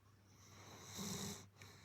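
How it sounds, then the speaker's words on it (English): A treeing walker coonhound sleeps on a couch and lets out one deep, close snore that swells and then fades into steady breathing, with no talk. "We've got some footage here of the sleepy beast in action, snoring away on the couch."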